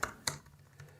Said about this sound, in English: I am typing in Google Docs